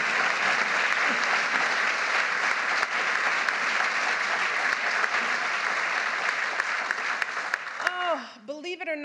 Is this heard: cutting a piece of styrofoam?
no